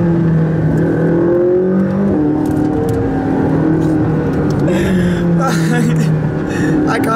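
Supercar accelerating hard through Monaco streets, a loud sustained engine roar with rising tonal harmonics and gear changes, heard from inside the car with brief gasping voices over it.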